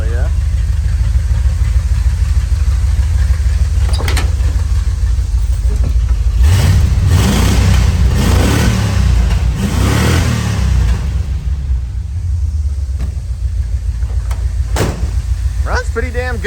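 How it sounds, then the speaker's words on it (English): A 1978 GMC Jimmy engine with an uncleaned carburetor idles, then revs in several rising bursts before settling back to a rough idle, close and loud, while someone talks over it. "Runs pretty damn good for me not cleaning the carb or anything."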